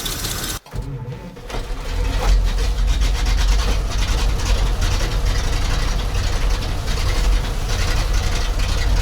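A ZIL truck crane engine, started after 20 years standing idle and failing to gain revs, runs with a steady, rough low rumble and mechanical clatter after a brief knock at the start.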